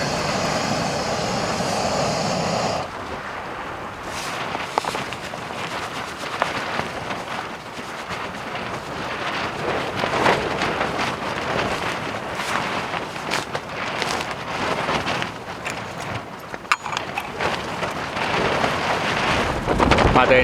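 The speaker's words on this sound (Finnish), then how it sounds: "Vähän tuulista olisi vai? Hyvä tuuli itse asiassa." Wind blowing across open wilderness on a midsummer hike in Kaldoaivi, a constant rushing roar buffeting the microphone in gusts, loud and close throughout with no talk.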